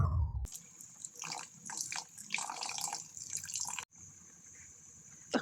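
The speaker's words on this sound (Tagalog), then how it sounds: "Lagyan natin ng suka guys para malasa ang ating adobo." Vinegar poured into a pot of adobo braised with coke and eggs, a steady liquid trickle and dripping close by with a brief break partway, no one talking.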